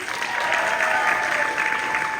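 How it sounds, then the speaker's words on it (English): Brief burst of steady audience applause at a live holiday comedy show, a dense continuous wash of clapping heard as a crowd rather than individual hands. "Can I have everybody give a round of applause for Sophie Akajobi"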